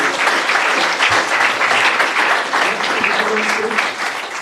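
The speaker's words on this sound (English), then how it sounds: "Let's give a very warm applause to Mr." A tech-event audience gives a speaker warm applause, loud and close: a thick, continuous wash of many hands clapping at once, sustained at full strength from start to finish.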